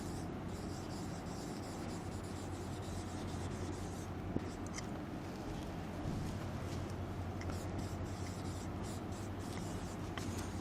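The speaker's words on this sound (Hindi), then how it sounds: "इसको भी लिख लेते हैं।" Pen or chalk scratching steadily through a class lecture on democracy, a continuous close scribbling texture that runs the whole time with no pauses and no talk over it.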